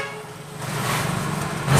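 A single sustained blast from a 12-volt air horn wired directly to a battery on an Owner Type Jeep swells up and holds steady, loud and close, with a brief rise in intensity at the end.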